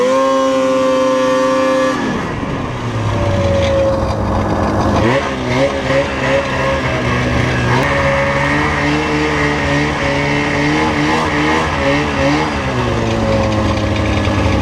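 A Ski-Doo Formula Z 583 snowmobile engine runs loud and close for the whole stretch, its pitch dropping as it eases off, then rising and wavering through repeated throttle surges while riding.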